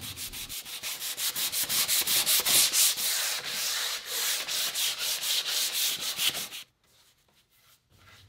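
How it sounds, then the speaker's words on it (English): Sanding a primed wooden bookcase cabinet smooth after filling, a loud steady scrubbing with rapid back-and-forth strokes that cuts off near the end, leaving quiet. "sand the primer and the fill at the same time"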